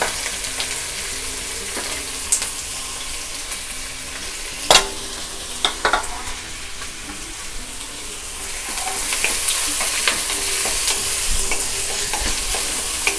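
Onion, ginger, garlic and green chili fry in a large spoonful of hot oil with a steady, bright sizzle. Occasional utensil knocks punctuate it, and the hiss swells louder toward the end.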